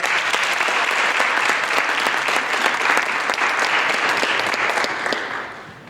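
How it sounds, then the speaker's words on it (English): Loud, full applause from a high school honors ceremony audience, dense clapping holding steady for several seconds before tapering off. "let's give him a round of applause"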